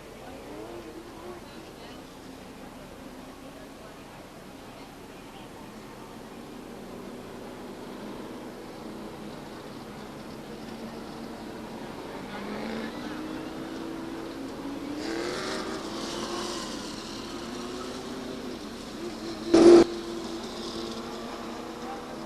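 Stock cars drone around the Stockton 99 Speedway at a 2001 race, a continuous engine roar that rises and fades beneath a race commentator's voice.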